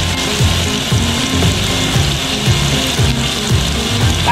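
Onion dropped into hot oil in a pan after browned garlic, sizzling and frying loudly and steadily up close, with a dense bubbling crackle and repeated soft pulses throughout.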